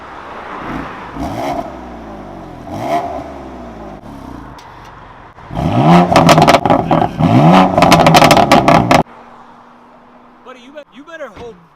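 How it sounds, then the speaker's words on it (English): A tuned BMW M4's exhaust revs a few times in comfort mode, then much louder, rapid blips in Sport Plus before cutting off; voices are heard around the revs. "let's hear my M4's exhaust before going into it"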